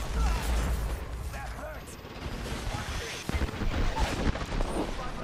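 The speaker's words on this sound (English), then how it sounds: "let's go, shoot them." Gunfire in the battle-royale game Apex Legends, with dense, continuous bursts of shots and impacts layered under a busy mix of game sound and a player's voice.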